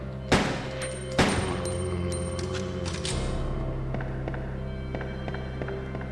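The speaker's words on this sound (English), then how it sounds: "Because I'm shooting zombie police" Gunfire in the 1998 PlayStation game Resident Evil 2, shooting zombie police: two sharp, loud shots near the start followed by a steady mechanical game ambience with faint tapping, no talking.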